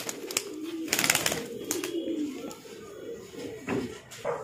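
Pigeons, including high-flyer birds, coo in low, soft murmurs close by, mixed with wing flutters and rustling.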